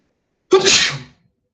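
A single sharp sneeze bursts out of silence, loud and close, and fades within about half a second during a class on shaft torsion angles.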